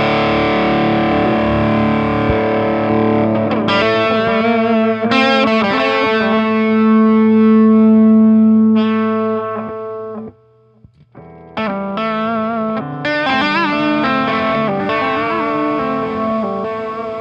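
Heavily effected electric guitar through an Anomalies delay pedal plays sustained notes and chords with repeating, smeared echoes, loud and continuous apart from a brief near-silent gap.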